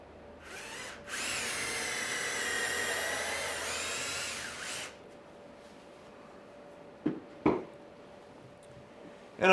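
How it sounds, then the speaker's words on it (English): A power drill bores a pilot hole into a 2x4 for a long screw on a mobile raised container planter, whining loudly for about four seconds after a brief start, followed by a couple of short knocks. "Now I'm drilling a pilot hole. That's just through up to the 2x4"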